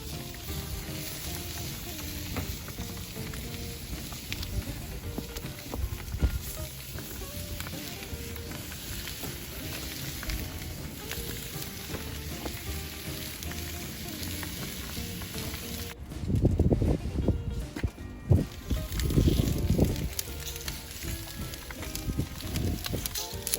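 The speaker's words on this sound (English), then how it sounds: "I'm gonna throw our steaks right on at a nice angle." N.Y. strip steaks sizzling on a hot glowing grill, a steady loud fry hiss that swells with bursts of crackle near the end, with no voices.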